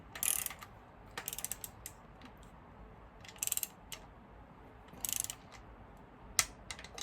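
A ratchet tightens the perimeter case nuts on a CB Performance 2017cc engine, sounding as several short clicking bursts separated by quiet pauses.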